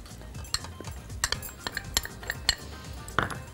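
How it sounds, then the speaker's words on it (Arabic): A spoon stirs starch and chocolate milk in a metal pot, making a quick run of light clinks and scrapes against the sides at close range, with no talk over it. "نقلبه"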